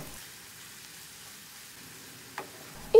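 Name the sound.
onions frying in a pan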